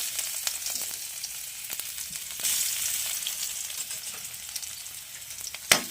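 Onion and garlic hit a hot pan (kawali) and give a continuous close frying sizzle with light stirring scrapes, swelling slightly midway and ending on a sharp clank.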